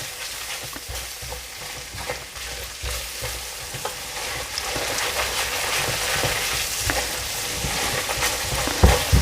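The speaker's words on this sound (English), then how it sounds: "And we're just going to fry them for a couple of seconds, nothing too much." Whole spices frying in a pan for a Mughlai chicken changezi, a steady close sizzle with scraping stirs and spoon taps, growing slightly louder toward the end, no talking.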